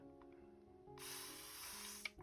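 A fine-mist sewing spray bottle spritzes water onto a craft press plate, a single soft hiss of spray starting midway and running about a second, with a faint tap at the end, quiet and close.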